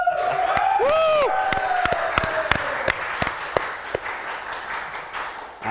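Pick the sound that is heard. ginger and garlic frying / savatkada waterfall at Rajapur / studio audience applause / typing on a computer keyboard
studio audience applause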